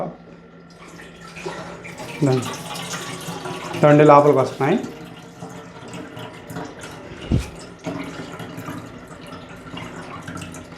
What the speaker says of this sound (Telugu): ఇదిగోండి నీళ్ళు పోస్తున్నాడు మా నాన్న